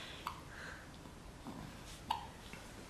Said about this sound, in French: Elle a le hoquet.